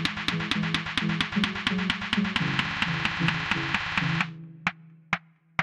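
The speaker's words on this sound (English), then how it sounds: "To build some tension, I got some snare samples and just made them get steadily quicker." Electronic snare samples repeat in a regular pulse that grows steadily faster to build tension, layered over a sustained bright synth tone with low bass notes, then cut off into a few isolated sharp hits.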